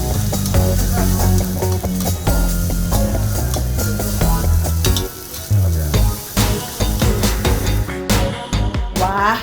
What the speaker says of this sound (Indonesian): Aduk-aduk kembali hingga semua bumbunya tercampur rata.